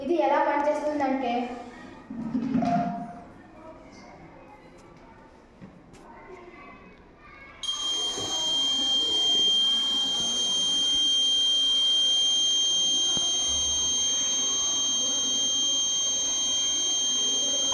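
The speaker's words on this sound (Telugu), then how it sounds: "గ్యాస్ లీక్ అయిన వెంటనే ఈ బజర్ అనేది మోగుతుంది" A kitchen gas leak sensor buzzer sounds a continuous high electronic tone, loud and steady once it starts partway through, following a stretch of child speech.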